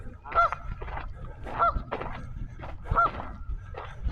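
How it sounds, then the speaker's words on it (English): A goose beside a canal trail gives loud, nasal honks, three clear calls evenly spaced about a second apart, heard alone against faint low outdoor rumble. "You can hear that goose I was talking about."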